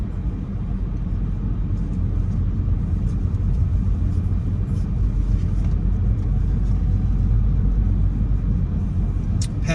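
A car drives through the Buena Vista Heights neighborhood of Nashville, Tennessee, and makes a left-hand turn. A steady, close interior road rumble and engine hum continue throughout, with no clear change in pitch.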